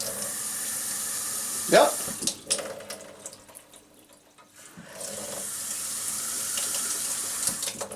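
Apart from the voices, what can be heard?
water running from kitchen faucet with aerator installed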